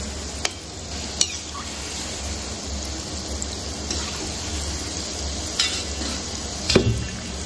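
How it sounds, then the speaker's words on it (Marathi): Gulab jamun fry in oil held on a low flame, giving a continuous bubbling sizzle with occasional sharp clinks and stirring noises from a utensil, close by and without speech. "एकदा मोठ्या गॅसवर तेल तापवले की परत गॅसला हात नाही लावायचा, बारीक ह्याच्यावरच तळून घ्यायची."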